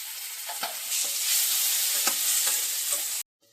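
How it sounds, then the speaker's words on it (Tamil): Coriander and curry leaves, with tomato, being sautéed in a pan for kichadi, a bright steady sizzle broken by a few sharp spatula scrapes, close by, ending abruptly in silence. "நல்லா வதக்கி விட்டுக்கலாம்."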